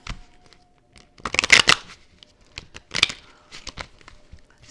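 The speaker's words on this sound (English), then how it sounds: "Let me shuffle one more time." A tarot deck shuffled close up in a few quick riffle bursts, with quiet pauses and light card handling between them.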